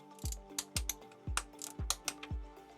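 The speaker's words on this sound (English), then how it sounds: "Torque the head cover gasket in the standard pattern from the middle towards the outer sides." A torque wrench ratchets on BMW M52 valve cover gasket bolts, with short bursts of metallic clicking repeated about five times in an even rhythm, close and fairly quiet.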